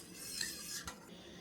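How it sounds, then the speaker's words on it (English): A utensil stirs RSO into heavy whipping cream in a bowl, faint scraping and swishing strokes with a soft clink near the end, close and quiet. "And I'll just keep stirring so we get all the RSO out of there, or dissolved in there"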